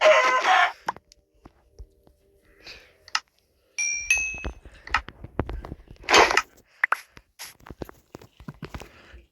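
A chicken clucks in short, scattered bursts nearby, mixed with a crow-like call, light footsteps and small clinks in otherwise quiet surroundings.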